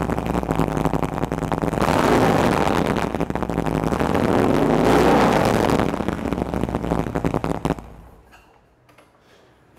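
A Harley-Davidson V-twin with a Bassani Road Rage 3 2-into-1 exhaust and Shorty muffler idles and revs loud and close, a choppy rumbling swell that rises twice before cutting off into near silence.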